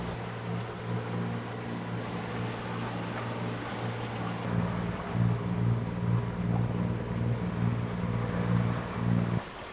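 Sailing boat motoring on a single engine at sea, a steady low engine hum with even harmonic drone that grows louder and rougher midway, mixed with water and wind noise.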